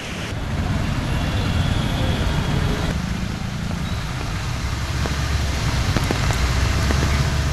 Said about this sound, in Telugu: చిరు జల్లులతో కూడిన వర్షం కురుస్తోంది.